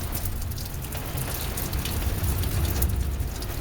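Steady early evening rain hissing down in a dense, even wash, with a deep low rumble that fits distant thunder running underneath throughout.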